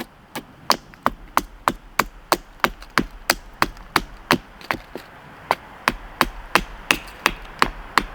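Fiskars Norden N12 splitting axe carving a shard of firewood to a point, giving a steady run of about twenty sharp, close chopping knocks at a brisk, even rhythm.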